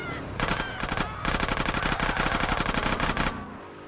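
Rapid automatic gunfire in Grand Theft Auto: San Andreas, several loud close bursts of fast repeated shots with short gaps between them.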